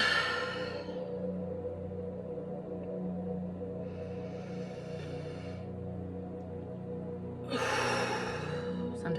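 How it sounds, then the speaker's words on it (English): A person breathes deeply in through the nose and exhales through the mouth, producing two long breathy exhales separated by quiet, heard close and alone. "I breathe deeply 3 times, in through my nose, into my diaphragm, hold it, and I exhale through my mouth"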